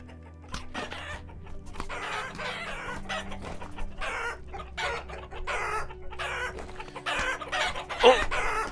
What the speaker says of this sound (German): So, mal gucken, ob uns die Hähne wieder angreifen.